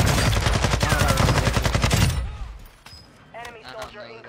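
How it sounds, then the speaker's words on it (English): Rapid gunfire bursts in Call of Duty Warzone rattle loudly and close for about two seconds, then fade into scattered distant shots and game effects. "I'm getting sniped from the guy"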